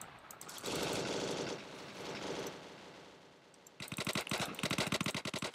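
Gunfire in the Roblox game Neighborhood War: dense bursts of shots, then a rapid string of sharp, evenly spaced automatic reports near the end, fairly quiet overall.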